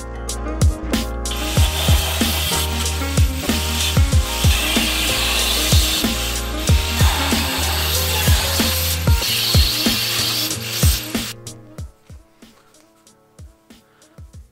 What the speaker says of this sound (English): On the other side there's also lots of cutting to do, so let's get messy.